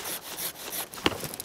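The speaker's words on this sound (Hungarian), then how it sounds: "És hogyha jó éles fűrészed van, amely nagyon jó sebfelületet ad," A sharp hand saw cuts through a branch of an old pear tree being pruned, giving quick rasping strokes close up.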